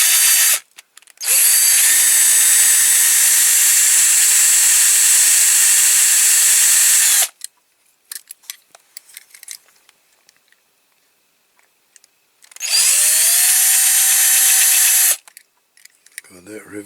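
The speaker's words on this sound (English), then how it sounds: "So we'll drill it anyway." A power drill bores into a Corgi Major Toys Bedford articulated milk tanker model during restoration, in two loud, sustained whining bursts of several seconds each, separated by quiet handling clicks and scraping.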